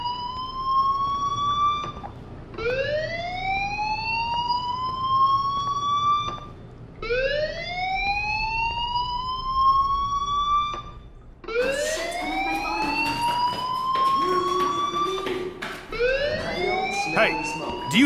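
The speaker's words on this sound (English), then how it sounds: "do you hear that fire alarm?" A fire alarm in the video game Life Is Strange wails in repeated rising electronic sweeps, loud and insistent, with a denser overlapping burst near the end.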